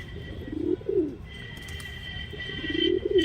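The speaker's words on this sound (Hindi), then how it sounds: "तो ये कबूतर कबूतरी हैं, देखो दाना चुग रहे हैं।" Pigeons coo softly in short, repeated throaty phrases nearby while pecking grain, with a faint high electronic whine in the background.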